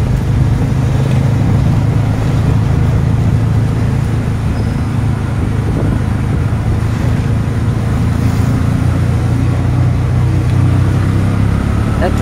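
A tricycle ride out of a residential subdivision in Davao: a steady, loud motor drone with constant road and traffic rumble throughout, unbroken and close.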